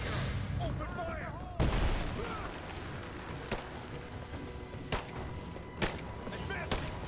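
Scattered gunshots crack out in the action game Rise of the Tomb Raider, one heavy blast early, then sharp isolated shots spaced a second or so apart over a busy background with voices talking.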